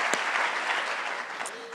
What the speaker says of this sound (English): can we please give another big round of applause for Tracee and AC